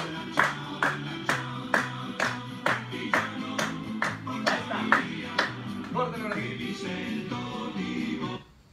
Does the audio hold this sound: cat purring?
no